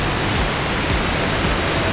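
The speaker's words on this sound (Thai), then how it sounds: "ด้านหลังมันน้ำตกใช่ไหม" Waterfall beside a riverside campsite in a botanical garden, a loud, continuous broadband rush of falling water filling the whole stretch, with no voices.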